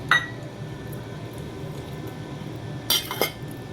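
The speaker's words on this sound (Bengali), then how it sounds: "চালটা দিয়ে দিচ্ছি চালটা দিয়ে এবার ঢাকা দিয়ে দেবো" Washed rice tipped into a cooking pot and a lid set on top, with a sharp metallic clink near the start and a cluster of clattering lid and pot knocks near the end over steady low background noise.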